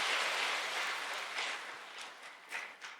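A church congregation at a Sunday worship service applauds together, a dense, moderately loud wash of many clapping hands that gradually thins toward the end, with a few louder individual claps near the close.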